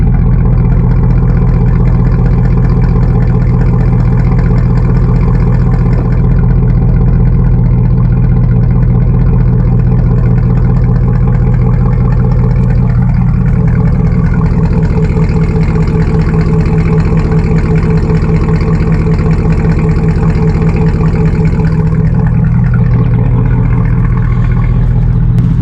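A car fitted with a K&N cold air intake and an aftermarket exhaust runs loud and close for nearly half a minute, its deep exhaust note holding a steady throb with mild rises in revs along the way.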